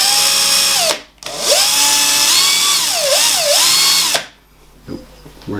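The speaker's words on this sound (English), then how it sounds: "drill machine, it's fixated right in the middle" A drill motor whirs loudly and steadily, its pitch rising and dipping as it spins, then stops abruptly, leaving faint background clatter.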